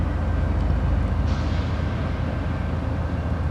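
A BNSF Railway freight train rumbles steadily in the Spokane Valley, WA, a continuous low roar of rolling wagons heard from nearby with no pauses.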